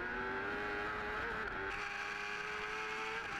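Kawasaki superbikes race on a circuit at the Autodrome, their engines whining high and steady at a distance, the pitch shifting as they pass, under a constant trackside roar.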